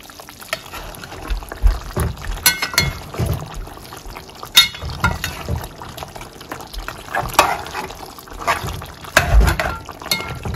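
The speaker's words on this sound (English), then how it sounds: "I'm gonna add 1 more cup of water" Water poured into a pot of Jamaican oxtail simmering low and slow on medium heat, a steady liquid splash with sizzling and a few clinks of utensils close by, no voices.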